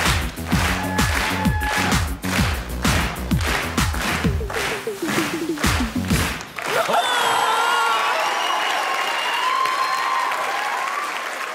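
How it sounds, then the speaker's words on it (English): Audience clapping and cheering at a televised kids' dance battle, first rhythmic claps keeping time with loud pulsing music, then a broad burst of applause and cheering from a big crowd once the music cuts out. "get some clapping going?"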